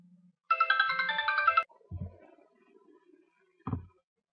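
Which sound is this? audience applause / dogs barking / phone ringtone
phone ringtone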